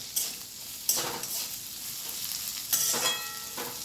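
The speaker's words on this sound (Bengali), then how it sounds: "পেঁয়াজটা আমার ভাজা হোক" Sliced onions with curry leaves fry in oil, a soft background hiss punctuated by a few louder bursts of sizzling and stirring scrapes at irregular intervals.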